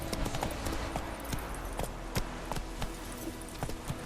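The horse Roach gallops in The Witcher 3, its hooves striking in a quick, steady, loud rhythm of clops over a dense ambient wash.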